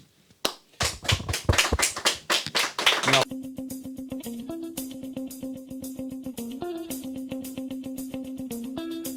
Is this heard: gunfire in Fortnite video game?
no